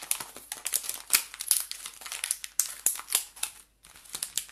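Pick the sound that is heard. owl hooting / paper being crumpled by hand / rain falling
paper being crumpled by hand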